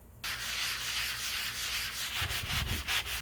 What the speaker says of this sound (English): Now that I'm done with the sanding